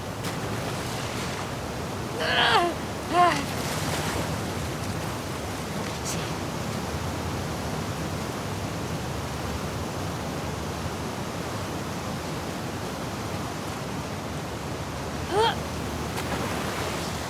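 Ocean waves wash steadily in a swimming section of The Last of Us Part 2, a broad continuous surf roar with a few brief splashes rising above it.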